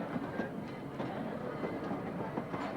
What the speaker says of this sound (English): the train quickly reached the track speed limitation of 20 miles per hour